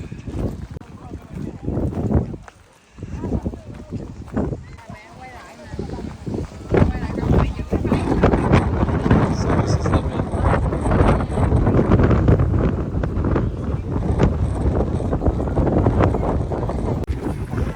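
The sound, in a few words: strong wind blowing on microphone at coast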